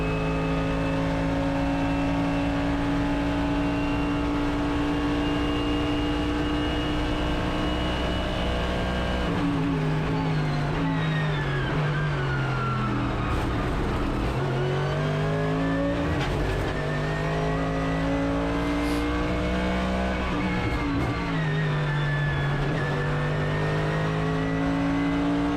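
A race car engine roars loudly through a practice lap, rising in pitch under acceleration, dropping sharply on shifts and braking, then climbing again in repeated swells, close and continuous throughout.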